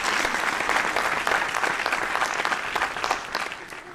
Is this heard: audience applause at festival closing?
yes